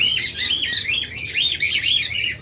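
A pair of pet lovebirds, one red-eyed and one black-eyed, chirp continuously up close, giving bright, rapid tweets and warbling squeaks with no pauses.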